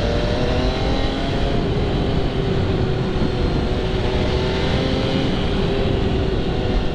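A 2020 MV Agusta F3 800 sportbike engine-brakes on the road, giving a loud, steady engine drone with a gently shifting pitch mixed with wind rush. No one speaks.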